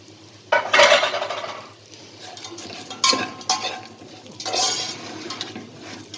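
Bread frying in oil for fatteh being stirred in a pan, irregular scraping and clinking bursts of the spoon against the pot over a low, soft sizzle, close by, with no talking.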